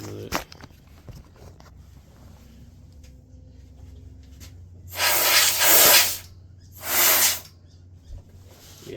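Two loud bursts of compressed air blast from an air compressor nozzle while cleaning a Yamaha RX-V home theater receiver, each lasting about a second, over a low steady hum and faint handling noises.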